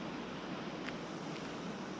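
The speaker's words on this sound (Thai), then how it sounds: "นี่ครับมาดูน้ำตก" Water released from Khun Dan Prakan Chon Dam in Nakhon Nayok tumbles down as a waterfall, a steady, dense rushing roar that fills the whole scene without any pause.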